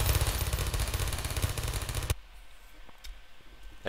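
A weapon fires in rapid automatic bursts in the shooter game Half-Life 2, a loud, dense rattle for about two seconds that cuts off abruptly, leaving a few faint clicks.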